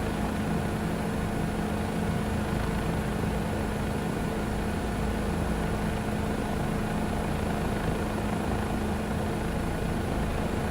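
A Bell JetRanger helicopter flying over London in Flight Simulator 2024 on VR. A steady, loud, unbroken rotor and turbine drone fills the whole stretch with no talking.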